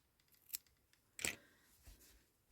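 Scissors snip through a crochet yarn end, a couple of sharp close metallic clicks, one quick and one louder cut, in a quiet room with no speech.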